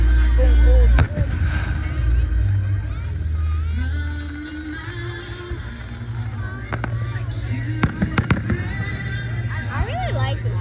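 Fireworks at an outdoor event: a loud close boom opens, followed by rumbling and scattered sharp bangs and crackles, with crowd noise and voices talking throughout.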